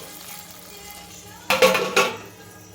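Water poured into a hot pan of ginger, turmeric and curry-leaf tempering for wheat rava upma gives two sharp, close bursts of hissing sizzle after a quiet low hum.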